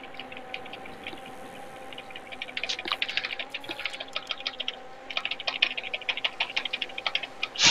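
Someone hammers rapidly on a computer keyboard, producing dense bursts of sharp clicking keystrokes, nearby and fairly clear over a faint steady hum, with the clatter growing busier toward the end.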